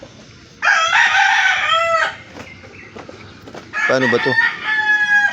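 Roosters at a backyard bird breeder crow loudly and nearby, two long, strained cock-a-doodle-doos separated by a brief pause, with a short spoken question and faint clucking in between.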